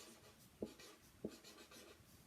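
Marker or chalk strokes on a board, two sharp taps and some faint scratching at low volume, in a quiet room with no talking.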